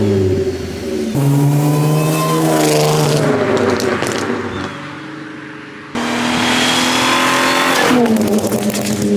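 A supercharged Audi A6 engine, revived after flooding, revs hard in loud rising and falling bursts close by, with a brief drop to idle between the pulls.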